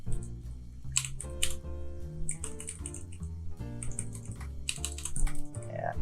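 Code is typed on a computer keyboard in quick, irregular clusters of close, crisp key clicks, with short pauses between bursts and a soft voice faintly underneath.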